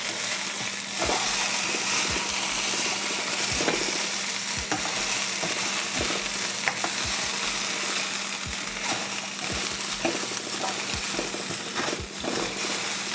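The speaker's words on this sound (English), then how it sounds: "I'm gonna throw some little pasta in there." Pasta with sriracha fries in a pan for a home-cooked meal, a steady loud sizzle with repeated scraping and stirring knocks throughout.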